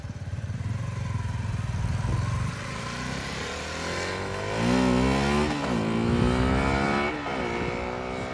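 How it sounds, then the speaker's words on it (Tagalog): A motorcycle engine rises in pitch as it accelerates past, revving through gear changes then fading slightly at the end. "papatesting ko kay Aaron yung motor ko."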